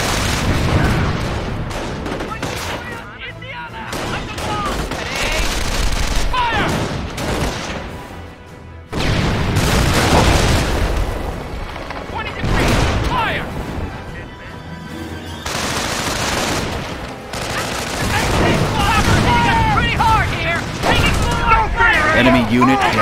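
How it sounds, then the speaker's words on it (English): Dense bursts of small-arms and submachine-gun fire crackle through a World War II battle in the strategy game Company of Heroes, with booming blasts and shouted voice lines over a continuous loud din. "They're firing on us!"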